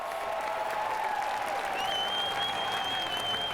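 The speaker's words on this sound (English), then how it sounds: "let's give her a round of applause." Steady audience applause at an award ceremony honoring a frontline hero, moderate and even clapping that continues throughout, with faint tonal whistles sliding over the crowd noise.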